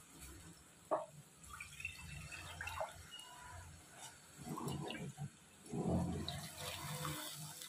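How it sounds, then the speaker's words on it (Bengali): Water is poured into a pan of parse fish curry with eggplant in a chili-oil gravy, heard as soft, quiet splashing and gurgling in a couple of short bursts with faint kitchen clatter. "জল দিয়ে দেবো। আর একটু জল লাগবে মাছগুলো ডোবার মতন।"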